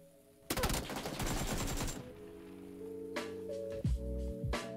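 AWM bolt-action sniper rifle firing in PUBG: a sharp loud crack opens a burst of dense gunfire, followed later by a couple of shorter reports over a game tone backdrop.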